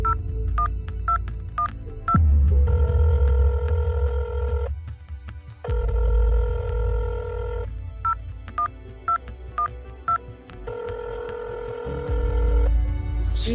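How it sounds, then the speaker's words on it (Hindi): Telephone tones repeat in bursts: short keypad-style beeps alternate with longer steady ringing tones, loud and close, and the call keeps going unanswered with no voices. "ये दोनों अपना फोन उठा नहीं रहे"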